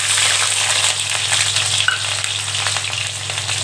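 Small shallots tipped into hot oil with cinnamon, two cloves, two cardamom pods and bay leaves, frying in a pan for a village-style mutton curry: a loud, continuous close sizzle with light stirring clicks and no speech.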